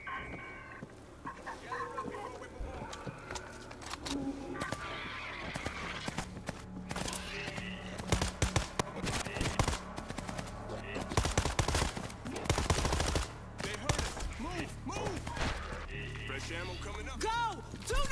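Gunfire in World War Z Aftermath: rapid automatic bursts crackle through a busy battle din, loud and continuous over many seconds.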